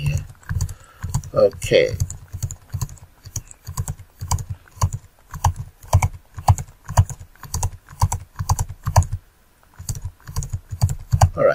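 Steady, rhythmic typing on a computer keyboard while entering data into an Excel form, the keystrokes close and evenly paced with one short pause, and a voice briefly speaks over it.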